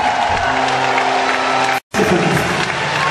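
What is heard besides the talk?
audience applause at a concert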